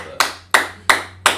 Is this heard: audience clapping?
yes